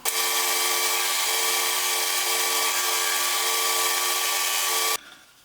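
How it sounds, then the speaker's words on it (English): A bandsaw cuts through wood with a loud, continuous rasping whine up close for about five seconds, then the cut ends abruptly and the sound drops away. "So I'll go cut this on the bandsaw and then I'll make this one the same."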